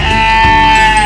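A single sheep lets out a loud, close bleat, a sustained wavering cry that lasts about a second.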